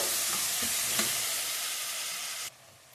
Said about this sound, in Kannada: ನೋಡಿ ಈರುಳ್ಳಿ ಫ್ರೈ ಆಗಿದೆ